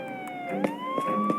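A police car siren sound effect wails loudly and alone, its tone dipping and then climbing again in a short, continuous sweep.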